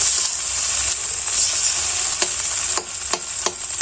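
Food frying in a pan with a steady close sizzle, with a few sharp stirring scrapes toward the end.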